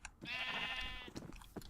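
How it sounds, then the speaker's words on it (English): A tainted sheep in the modded Minecraft Twilight Forest world lets out one drawn-out, wavering bleat at close range, then falls to quieter shuffling game noises. "That is a tainted sheep."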